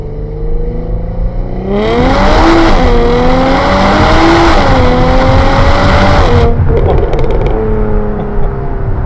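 A tuned Jaguar F-Type V6 launches hard in first gear, its engine note surging up loudly through a long rising pull, wavering with wheelspin, before lifting off into a quieter burble with faint pops.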